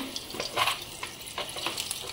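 Potato fritters sizzle in hot oil, with short bursts of crackling and a few scraping stirs against the pan.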